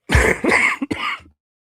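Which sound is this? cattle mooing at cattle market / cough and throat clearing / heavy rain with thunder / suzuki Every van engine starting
cough and throat clearing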